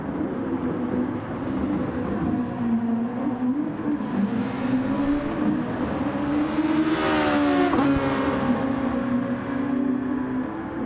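Race cars in a racing video game, a steady droning engine whine from several close cars that rises and swells as one passes near the midpoint, with no talk.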